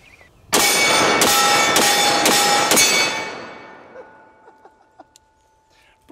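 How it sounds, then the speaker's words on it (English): A Phoenix Weaponry 4570 Auto fires a rapid burst of about five loud, sharp shots in quick succession, and each report rings out with a metallic clang before fading into quiet, scattered clicks. "Now let's see how much faster I shoot with the Phoenix Weaponry 4570 Auto."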